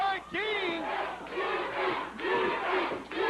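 A live professional wrestling crowd at a Power Pro show roars and chants loudly and continuously, with excited yelling voices rising and falling throughout.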